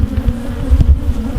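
Agitated honeybees swarm close around a beekeeper, a loud, low, continuous buzz with wavering pulses as individual insects fly near.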